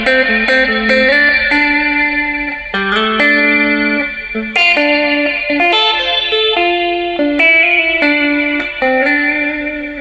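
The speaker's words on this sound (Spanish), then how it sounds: "Volvemos a encender la reverb y escuchen." An electric guitar with its reverb effect switched back on picks a flowing phrase of single notes and chords, each one ringing out into a spacious tail, loud and up front.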